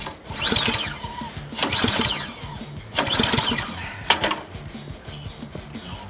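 Toro and Ariens snow blowers, gassed and oiled, being started outdoors: repeated rising pull-cord rattles and sputtering engine bursts, about three tries over six seconds, close and fairly loud.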